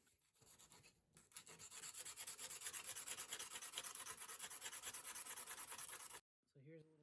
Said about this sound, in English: I just used some small pieces of sandpaper to sand the blade down